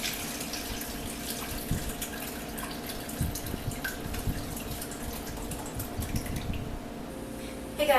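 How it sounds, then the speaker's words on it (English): Homemade strawberry mint basil ice cream base poured through a strainer, a steady close trickle and patter of liquid that runs continuously with a few small splashes. "I'm just going to pass my base through a strainer"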